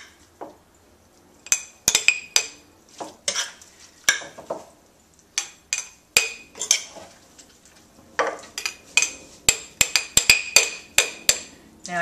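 Grated vegetables packed firmly into a jar, with repeated close clinks and knocks of utensil against glass coming in irregular bursts, no voices.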